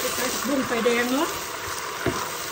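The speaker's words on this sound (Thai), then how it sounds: "ผัดกระเทียมป่าไฟแดงจ้า" Wild garlic stalks stir-fried over high heat, giving a steady broadband frying sizzle throughout, with someone talking over it in the first half.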